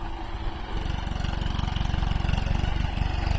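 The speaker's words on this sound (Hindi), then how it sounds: "आ रहा ट्रैक्टर लियो" A tractor engine idles close by with a steady, low, pulsing chug that grows slightly louder, running alone without talk.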